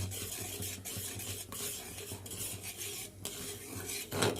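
Homemade sauce thickens and simmers in a pan while a utensil stirs it, giving a steady scraping, rubbing sound with light bubbling underneath. It is close and continuous, with a sharper clink near the end and no talking.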